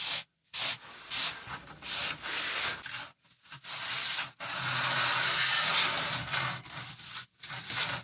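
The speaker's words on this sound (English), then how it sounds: "I will get on with getting rid of the glue off this" Old glue being sanded off flimsy fiberglass interior trim: close, loud abrasive rubbing in repeated strokes of varying length, separated by short pauses, with no talking.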